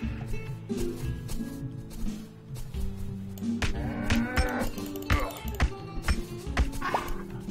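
Farm animals in the video game Total Miner bleat and low repeatedly, loud and close, with a player talking over the overlapping calls.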